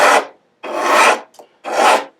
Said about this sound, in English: you can hear the file go from that sort of crunching grab to a whisper once you've arrived